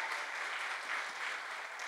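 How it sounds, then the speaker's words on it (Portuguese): A church congregation applauding during a Portuguese-language sermon, a steady, dense wash of clapping from many hands filling the room without pause. "Pode aplaudir ao Senhor, que Ele merece."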